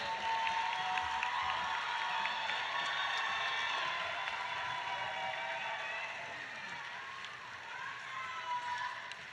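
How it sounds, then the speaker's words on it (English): Graduates of Central Piedmont Early College's Class of 2025 receive applause and cheers from a large ceremony audience, a broad, distant roar of clapping that carries on steadily and eases slightly toward the end. "let's give them another big round of applause"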